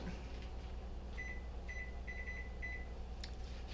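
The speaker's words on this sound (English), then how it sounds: "I'm going to put my timer on 7." A kitchen timer beeps several times in quick presses as it is set during cookie baking, short bright tones over a steady room hum.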